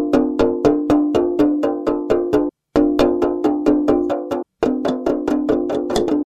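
A small ball bouncing on a drum membrane gives a rapid, steady series of bright, ringing, cowbell-like strikes in three close bursts separated by brief silences.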